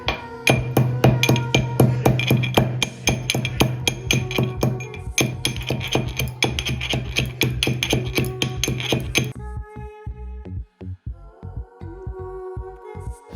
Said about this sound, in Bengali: নিয়েছি গোলমরিচ, এটা আমি গুঁড়ো করে নেব